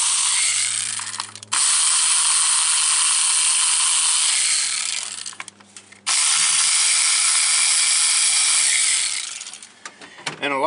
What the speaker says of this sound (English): the first thing I'm going to do is take these bolts out